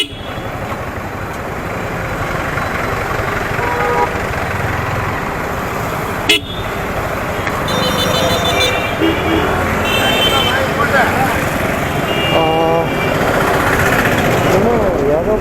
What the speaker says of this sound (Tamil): ஏகப்பட்ட டிராஃபிக்காக இருக்குது.